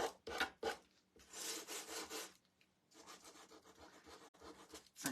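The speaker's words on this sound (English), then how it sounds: "since I already had my sandpaper going" Sandpaper rubbing over a painted wooden knife block, rough rasping strokes in uneven bursts with short pauses, close but quiet with no talk.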